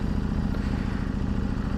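A Ducati Desert X motorcycle engine runs with a loud, steady, close throbbing rumble, heard alone without talk.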